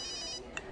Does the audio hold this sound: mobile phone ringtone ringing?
yes